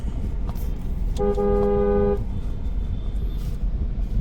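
Busy road traffic rumbles on as a car horn blares in one sustained honk, with fainter beeps and engine noise around it.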